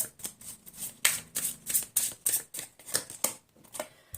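Tarot cards are drawn and handled in quick succession, making a rhythmic series of crisp flicking, shuffling snaps about twice per second, close and fairly quiet with no voice.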